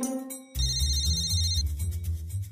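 A telephone ringing in a Marathi TV serial scene, a bright electronic ringtone with repeating high tones over a low musical bed, fairly close and without talk.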